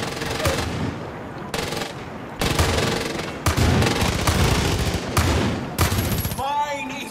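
Video game gunfire from Far Cry 5 comes in loud, close automatic bursts separated by brief gaps, with rapid shots rattling through each volley and a ringing tail at the end.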